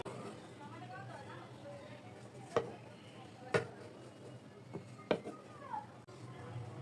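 A knife cuts nimki dough into small pieces on a board, giving three or four sharp, spaced chops over quiet background chatter in a home kitchen.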